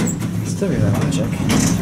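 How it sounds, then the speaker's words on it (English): An old Otis traction elevator, still on its original controls at 300 East Main Street in Charlottesville, Virginia, slides its door shut with a close rumbling slide and a soft thud, with some faint indoor noise in the background. "Door close works."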